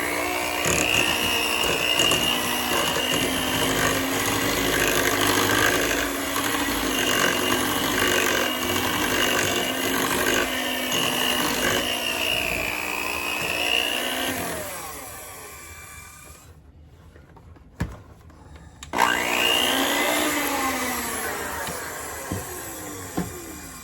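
An electric mixer whirs steadily through root beer pound cake batter, loud and continuous with slight pitch shifts, then stops briefly before starting up again near the end.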